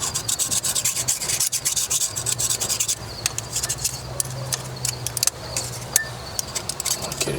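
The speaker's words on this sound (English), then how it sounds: "I can at least kind of scrape some of this crap off." Scraping of an old 1965 Mustang engine's gaskets with a razor blade or pocket knife: steady rubbing and rasping strokes with short clicks, up close and continuous, with no talk.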